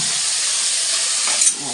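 Onions frying in oil in a pan give a steady, loud broadband sizzle and hiss that runs unbroken throughout, with a slight flare near the end.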